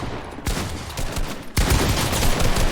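Gunfire in a video game aimed at a ceiling, loud rapid bursts of shots running almost without pause, with a brief lull before a fresh volley.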